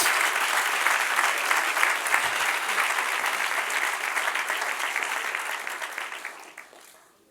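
A church congregation applauds during an evening sermon, a full, sustained burst of many hands clapping that stays loud and even for about seven seconds before tapering off at the end.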